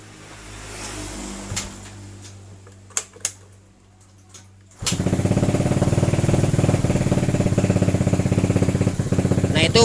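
A Yamaha Fino motorcycle engine is started after a few faint clicks and rattles; it catches abruptly midway and keeps running loudly in a steady, close idle.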